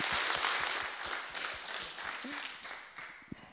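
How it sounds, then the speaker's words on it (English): Audience applause for contestants at an innovation challenge final, a broad wash of clapping that fades gradually, with talking over it. "one more round of applause for the contestants"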